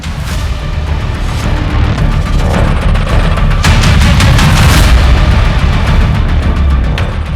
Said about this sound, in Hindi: जब से बोला है पटाखे चलेंगे तब से गोलियां चल रही हैं।